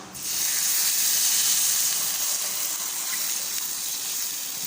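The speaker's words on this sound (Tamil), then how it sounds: "மூணு கப் தண்ணி சேர்த்துருக்கோம் உள்ள ஆட் பண்ணிடலாம்" Three cups of water pour steadily into a hot pan on the stove, a sustained hissing gush that starts abruptly and continues evenly to the end.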